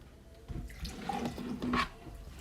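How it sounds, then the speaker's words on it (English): Water from a tap runs into a water bottle, a soft uneven splashing and gurgling with a few brief bright drips, fairly close and quiet. "Fill up my water."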